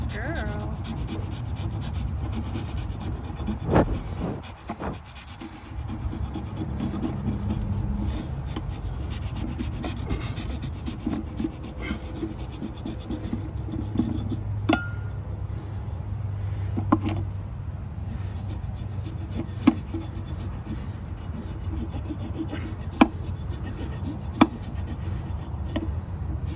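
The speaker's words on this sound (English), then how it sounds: "Sorry about all the grunting and heavy breathing" Heavy breathing and grunting from someone trimming a pony's hoof, heard as low close panting under steady rasping and scraping, with occasional sharp clicks.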